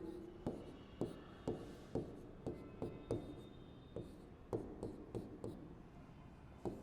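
Chalk or pen writing during a physics lecture on the kinetic theory of gases: a steady series of soft, regular taps and strokes, close and quiet, with no talking.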